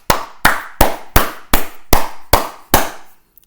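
Eight loud, close hand claps at a slow, steady rhythm, each crisp and separate, with nothing else around them.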